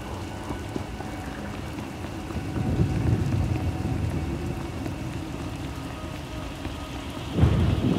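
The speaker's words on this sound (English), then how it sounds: "Hard to track them through the storm." Steady rain pours in Star Wars: The Old Republic with low rumbling thunder rolling underneath, swelling in the middle and a deeper crack near the end.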